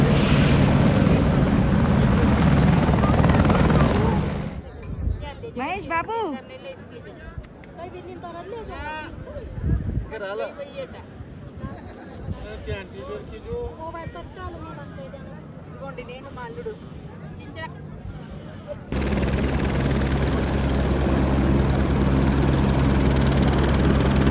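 A loud helicopter roars nearby at Kedarnath, drops away while people talk, then its heavy rotor rumble returns at full strength.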